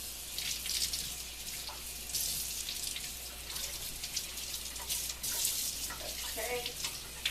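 Water runs steadily from a kitchen sink tap as a microfiber cleaning cloth is wetted under it, a continuous hiss at moderate level with small splashy changes as the cloth moves through the stream.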